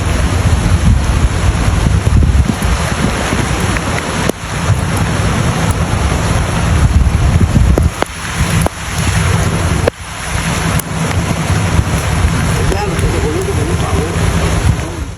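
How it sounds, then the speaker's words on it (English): Flash floodwater pours like a waterfall through North Carolina streets, a loud, roaring, continuous rush with wind buffeting the microphone throughout. "There's a waterfall where there shouldn't be one."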